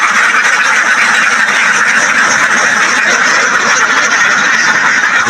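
Many ducks on a Bangladeshi duck farm quack together in a dense, continuous chorus that stays loud and steady throughout, with no voices over it.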